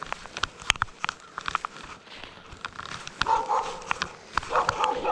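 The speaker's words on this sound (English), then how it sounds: "Yes, that's my parents' dog barking." A dog barks in short, sharp bursts at a moderate distance, irregular and repeated, over faint background rustling.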